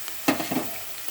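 Onions fry in a pan as turmeric goes in, a soft continuous sizzle with a couple of brief stirring knocks near the start, fairly quiet.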